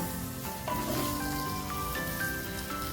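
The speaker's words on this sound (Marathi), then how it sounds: "भेंडी आपली भाजून झाली भेंडी अशी मऊ झाली म्हणजे समजायची भेंडी भाजून झाली" Okra (bhindi) fries in a kadai until soft, giving a steady low sizzle with faint tonal ringing in the background throughout.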